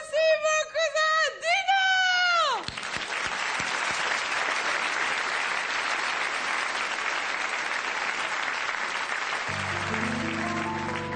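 An announcer's voice gives way to a loud, dense wave of audience applause for performers at a show at Marigny, steady and full for several seconds before music comes in under the clapping.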